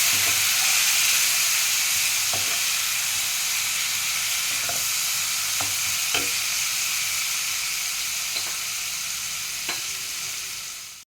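Spice masala with chilli powder and turmeric, loosened with a little water, frying in a pan with a constant hissing sizzle and occasional soft scrapes of a spoon stirring it, close by and with no talking.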